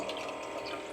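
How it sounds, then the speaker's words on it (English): Tap water runs steadily into a metal water pot at a base camp stove setup, a close, continuous splashing flow with no talking. "So we've got our water pot. So let's fill this bad boy up again."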